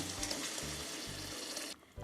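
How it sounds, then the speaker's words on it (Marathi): Liquid from boiled moringa drumsticks pours steadily into a spicy drumstick curry, a continuous splashing rush for under two seconds that stops abruptly near the end. "आता घालायचं शिजवलेले शेंगाचं पाणी"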